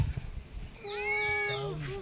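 Kittens meowing at a village home, with one clear drawn-out meow and a shorter cry after it, close and moderately loud over faint background noise.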